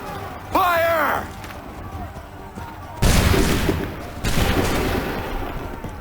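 Musket volley gunfire from a line of soldiers in Assassin's Creed 3, heard as loud crackling bursts about halfway through with a second volley soon after, with a shouted voice early on and battle noise between.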